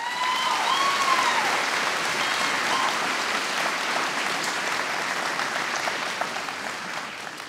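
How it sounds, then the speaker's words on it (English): A crowd at a school graduation ceremony claps steadily for several seconds, sustained applause that slowly thins toward the end, with no talking. "So I think at the end of this, a big round of applause must go to Mr. Fergal Moore, Ms. Karen Bowles, Ms. Mary"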